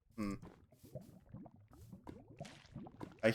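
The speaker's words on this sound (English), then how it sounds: "I hear bubbling lava" Bubbling lava in the Minecraft Blightfall modpack, soft popping and gurgling blobs bursting in an irregular rhythm, quiet and close with a few louder pops and no talk.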